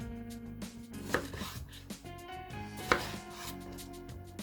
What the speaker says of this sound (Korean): 토마토의 꼭지를 잘라서 떼주시고요